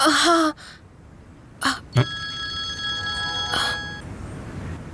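A phone rings with a bright electronic trill, a short burst followed by a longer sustained ring, heard indoors with no talking.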